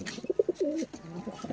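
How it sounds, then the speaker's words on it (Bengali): A female pigeon coos close by in a short, soft, throaty run of low pulsing notes, faint and alone. "এটা হচ্ছে পিলং মাদি কবুতর, ধরা কবুতর।"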